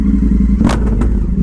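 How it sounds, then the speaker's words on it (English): An Indian FTR 1200 V-twin with a full Toce exhaust and tune idles with a loud, deep rumble, then gives a short sharp rev blip and a second smaller one close by. "I just feel that in my chest every time I rev it."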